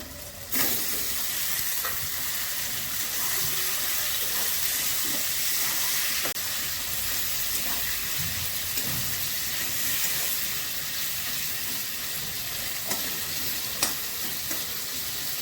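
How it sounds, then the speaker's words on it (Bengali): Chicken pieces fry in hot white oil with a steady, loud sizzling hiss that continues unbroken, with a few faint clinks of utensils against the pan. "এটা আমি সাদা তেলে করছি। এবার আমি চিকেনগুলো দিয়ে দিচ্ছি।"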